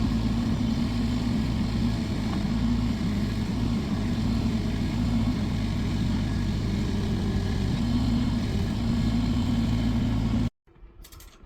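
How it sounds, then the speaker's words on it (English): A mini skid steer runs steadily for about ten seconds while driving earth anchors into the ground for an off-grid solar array. The engine drone is loud and continuous, then cuts off abruptly near the end. "here's where he's using a little mini skid steer to drive in those earth anchors"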